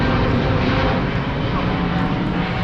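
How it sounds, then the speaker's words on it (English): A Thomas Cook Airlines airplane passes overhead near a West Sussex railway station, its engine a steady, broad roar that stays loud and constant throughout. "you also get to plane spot. Thomas Cook Airlines there."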